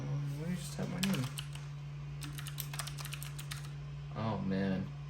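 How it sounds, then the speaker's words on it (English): Typing on a Das Keyboard 6 Professional mechanical keyboard, a short burst of close key clicks with a steady hum behind, while a person talks before and after. "Let me just type my name."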